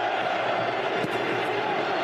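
Corinthians supporters packing the stadium stands at Yokohama during the 2012 FIFA Club World Cup match against Chelsea: a steady, broad roar of a large crowd continues throughout, with a commentator speaking over it.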